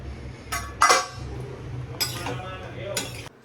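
Dishes clink and clatter lightly a few times as home-cooked chole and rice are served in a kitchen, with a low background hum underneath.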